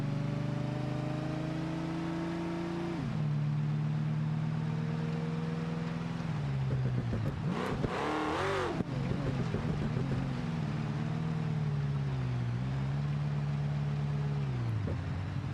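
A car launches hard on a dirt track in BeamNG, its engine droning steadily before the revs drop and climb again, then a loud burst of acceleration with a harsh roar before settling back into a sustained engine tone.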